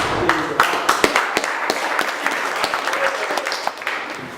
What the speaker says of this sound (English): give him a round of applause as he comes up